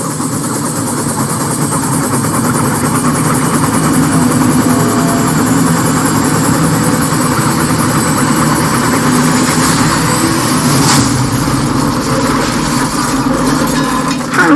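A helicopter engine runs loud and close, giving a steady, heavy mechanical drone with a constant vibrating hum that holds throughout.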